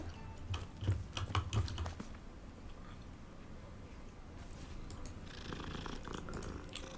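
A cat in the video game Hogwarts Legacy makes soft purring and low rumbling sounds up close, mixed with light clicking taps, then fading into a quiet ambient hiss.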